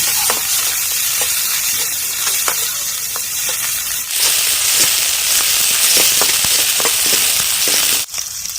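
Chopped onion and green chili fry loudly in hot oil in a village kitchen, a steady dense sizzle broken by sharp scraping stirs and crackles throughout, no voices.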